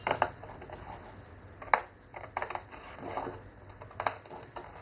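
Scissors cut paper for an envelope explosion box, giving soft, close crisp snips and rustles in an uneven rhythm, with no talking.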